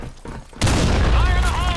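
Grenade blast in the online shooter BlackShot: after a brief lull, a single loud, sharp explosion bursts out and rolls on as a thick, roaring tail with crackling debris and ringing.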